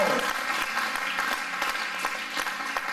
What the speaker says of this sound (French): vous pouvez applaudir le Seigneur si vous plaît